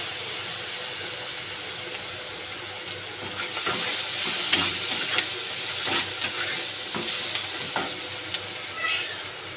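Onions frying in oil in a pan for a Bengali fish curry, with steady close sizzling and hissing and occasional sharper crackles and stirring scrapes, no talk.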